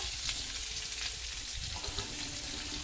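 Chopped onion and bay leaves frying in hot oil in a kadai, a dense, even sizzle with soft stirring scrapes, moderately loud and close.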